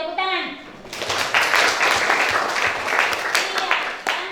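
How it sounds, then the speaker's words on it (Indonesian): Classroom applause from a group of students, a dense burst of clapping that starts right after a brief spoken word and keeps going steadily for several seconds. "Iya, tepuk tangan."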